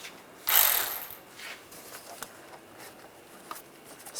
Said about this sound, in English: We're going to loosen up this worm clamp right here. I'm going to use the same 8mm socket